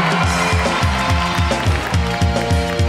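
A studio audience on a celebrity game show claps for a team's entry, giving steady, loud, continuous applause with a rhythmic beat running underneath throughout.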